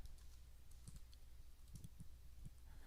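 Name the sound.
typing on a computer keyboard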